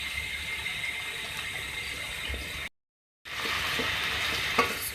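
Onions frying in oil until light brown for chicken biryani, a steady, close hiss of sizzling with a brief silent break and occasional crackles.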